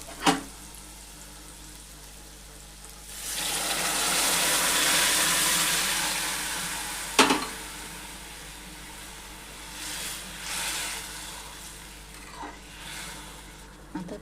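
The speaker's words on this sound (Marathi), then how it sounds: "आता आपण छोले टाकूया." Boiled chickpeas (chole) drop into a pan of sizzling fried masala for Punjabi-style chole, giving a loud burst of hissing sizzle followed by scraping stirs and intermittent clatters, with no talking.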